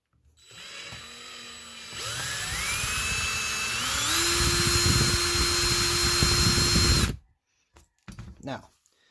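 A small power drill bores out the rivets of a 1:64 scale diecast car: a loud, close whine that rises in pitch in steps as it bites, then stops abruptly, followed by brief faint handling noises.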